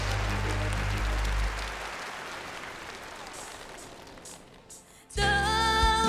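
A studio audience on a Chinese singing contest stage show claps in a dense, sustained burst over a low music bed, then tapers off as a song's accompaniment begins.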